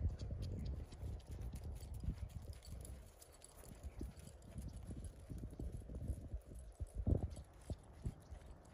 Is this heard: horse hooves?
yes